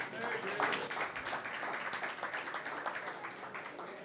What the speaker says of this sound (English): how about a round of applause for Gary?